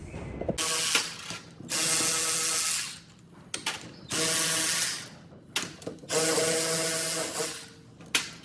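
Ratchet loosening the cylinder on a TRX90 engine fitted with a CR85 top end, several bursts of rapid clicking separated by short pauses and small metallic handling noises, close and clear.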